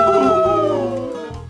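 A narrator voices a monster with a drawn-out, wavering howl-like yowl that slides downward over about a second and a half, loud and close. It is a human imitation of the creature's sound.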